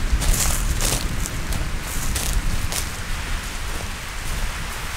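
An irrigation system sprays water hissing and pattering down onto a farm field, continuous and close, with a few louder bursts of droplets.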